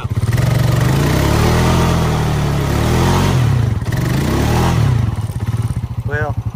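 A 2020 Honda four-wheel-drive machine strains in second gear through deep mud, its engine droning loud and close with rising and falling revs as it bogs, while a person speaks briefly near the end.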